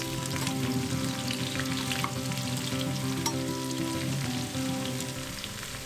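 Vegetables and ground beef fry in a pan for a Turkish weekday dinner, giving a continuous close sizzle with soft crackles and light stirring, no voices.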